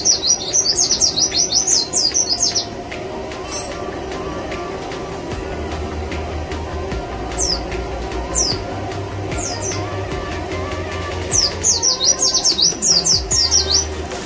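White-eye (pleci) songbird singing in bursts of quick, high, twittering chirps, loud and close, with quieter chirps in between over a steady low hum of background noise.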